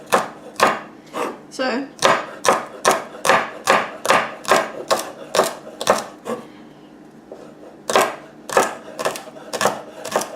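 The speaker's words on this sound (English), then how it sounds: "you just kind of just chop it up into bits" A knife chops food into bits on a board for a poor man's chicken salad, making steady rhythmic thuds at close range with a short pause midway and a word spoken once.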